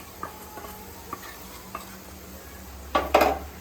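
Chili and turmeric powder stirred into ginger, garlic and onion frying in a pan, a soft sizzle under light spoon scrapes and taps, ending in a louder clatter of metal.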